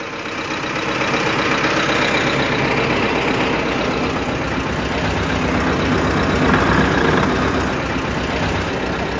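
A T-40AM tractor hauling a slurry tank for pumping fertilizer rumbles slowly along, a steady loud engine drone that holds without break for the whole stretch.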